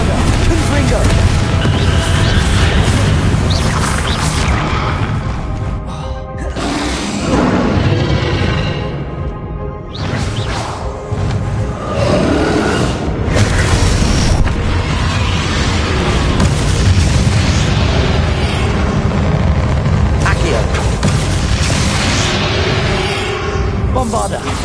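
The Bombarda blasting spell sets off repeated loud booming explosions in Hogwarts Legacy, thick with game effects and whooshes while voices speak throughout.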